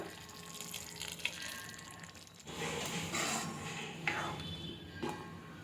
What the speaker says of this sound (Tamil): இதுலேயே கொஞ்சம் நம்ம தண்ணி ஆட் பண்ணி சேர்த்திக்கலாம்